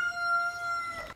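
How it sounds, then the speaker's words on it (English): A chicken outdoors gives a single drawn-out crowing call, steady and tonal for about a second before cutting off abruptly, moderately loud and alone. "I'm wondering what they're doing with that chicken out there."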